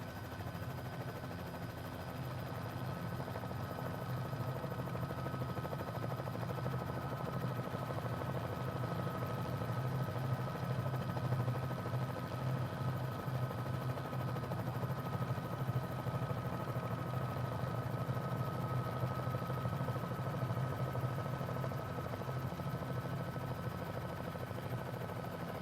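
A steady, fairly faint helicopter engine and rotor drone runs unbroken through a flight simulator game, with no voices over it.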